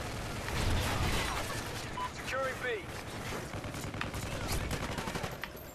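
Rapid gunfire in Call of Duty Ghosts rattles continuously beneath game effects and background noise, with bursts of shots and a few ricochet-like whines mid-way; no one speaks over it.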